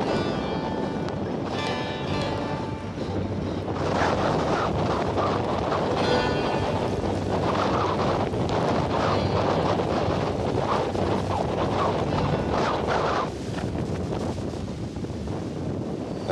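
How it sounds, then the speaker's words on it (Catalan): Strong wind in a desert sandstorm at dusk, roaring and buffeting the microphone in loud continuous gusts with rushing broadband noise throughout. "que m'he ficat dins d'una tormenta de sorra i s'està fent de nit"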